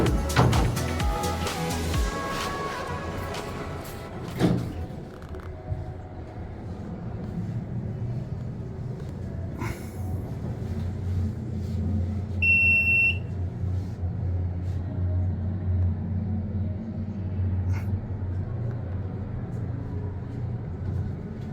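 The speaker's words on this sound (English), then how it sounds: "It has an epic, loud, and boisterous dry-powered hydraulic motor." A ski lift's loud, dry-powered hydraulic motor runs with a steady low rumble and drone, with clanks early on and a brief high beep partway through.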